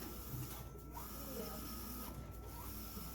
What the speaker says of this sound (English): I just think it's cool how this printer head just lays the ink over and over